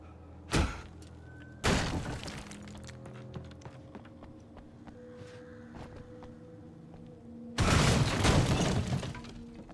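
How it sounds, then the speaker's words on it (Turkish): A large platform collapses in Alan Wake Remastered, with heavy crashing and shattering bursts, one brief and two longer, separated by quieter rumbling debris and low hum. "Tutup tırmanamadı, koca platformu çökertti"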